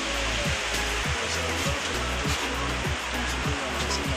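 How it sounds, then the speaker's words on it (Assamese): A river flows behind a resort in Namsai, Arunachal Pradesh, making a steady, dense rushing sound with a faint low rhythmic hum underneath. "এখন মোৰ পিছপিনে আপুনি দেখা পাইছে এখন নদী"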